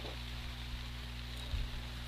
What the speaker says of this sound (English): So now the rain seems to be picking up a little bit more now.